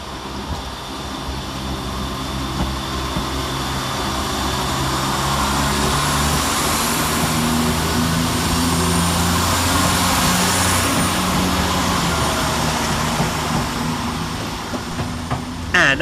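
A Northern Rail class 170 diesel multiple unit pulls out of Leeds railway station in rush hour rain, its engine a loud, rising throbbing drone with low, shifting tones that builds and holds through the departure.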